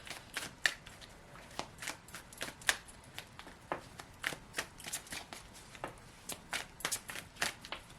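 A galactic heritage oracle card deck being shuffled by hand, a run of quick, crisp riffling bursts and taps repeating irregularly, close and fairly quiet, with no one talking over it.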